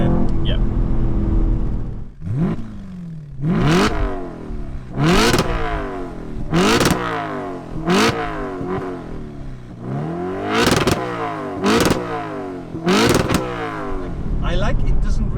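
An Audi RS4 Avant V8 accelerates repeatedly while driving, each rising engine sweep climbing then dropping with gear changes, loud and close, about eight pulls in a row; occasional talk sits underneath.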